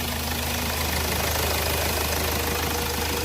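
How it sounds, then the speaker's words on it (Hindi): A Hyundai Verna car engine runs at a steady idle just after starting, with a loud, continuous hum and a faint rhythmic ticking from a noisy timing chain throughout. "इंजन का साउंड सुना"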